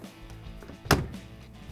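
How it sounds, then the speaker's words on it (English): A Bosch dishwasher door shuts in a single short, solid thud after some faint handling noise, fairly close and moderately loud with no voice over it. "And we can close the door."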